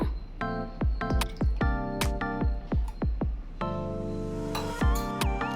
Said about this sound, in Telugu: నేను ఆయిల్ వేసుకుంటున్నానండి కొద్దిగా